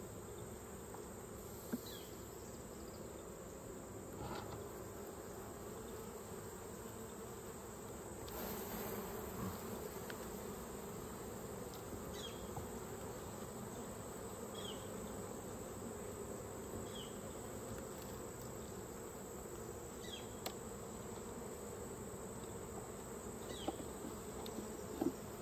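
Steady, dense buzzing of many honeybees around an open hive during a queen check on a weak colony, continuous and close with faint handling clicks now and then.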